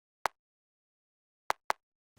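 Three quiet, clicky kick drum hits, the top kick from a pop song with its low end removed by EQ, leaving a thin mid-range knock; one single strike, a pause, then a quick pair, alone.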